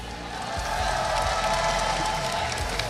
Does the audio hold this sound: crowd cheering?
yes